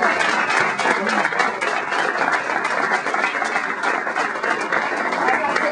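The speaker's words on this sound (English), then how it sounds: "So I think we should give them another round of applause." Audience applause at a press conference, a continuous wash of many hands clapping at a steady, fairly loud level with crowd noise mixed in.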